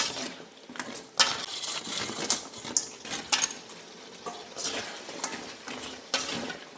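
Spoon scraping and clinking against a pan as fried bondas are mixed into manchuri over a medium flame, a steady run of close metallic taps and scrapes with no talking.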